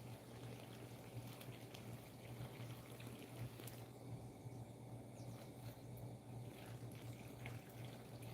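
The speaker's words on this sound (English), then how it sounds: "Put a little water on the aloe vera." Water trickles and splashes onto an aloe vera plant, a faint, steady pouring sound over a low background hum.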